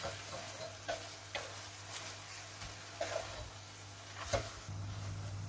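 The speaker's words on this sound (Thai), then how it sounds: "หอมหัวใหญ่ แล้วก็พริกแดงที่เราซอยไว้นะคะ ผัดให้ผักสุกอีกทีนะ" Sliced onion and red chili stir-fried in a pan for glass noodles with clams in chili paste: a soft steady sizzle with occasional spatula scrapes every second or so, fairly quiet, with no talking.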